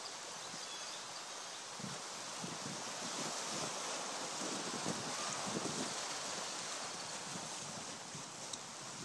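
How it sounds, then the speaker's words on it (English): Recorded ocean waves play back as a soundtrack, a soft continuous hiss of surf and wind with faint low swells, and no voices. "I created a soundtrack to make like the sound of the ocean"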